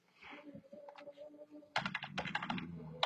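Fingers type on a computer keyboard, starting with sparse, soft key taps and then breaking into a quicker burst of crisp clicks near the end, close and quiet with no speech.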